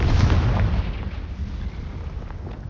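Confringo fire spell explosion in Hogwarts Legacy, a heavy low boom that bursts loudly at the start and rolls off into a rumbling decay over a few seconds.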